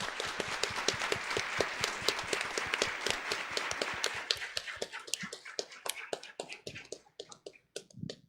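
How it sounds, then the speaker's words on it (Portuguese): A church congregation at Mass bursts into dense applause that stays steady, then thins to scattered, separate claps and fades out over several seconds, heard at a moderate distance. "Então vamos acolhê-los com uma salva de palmas."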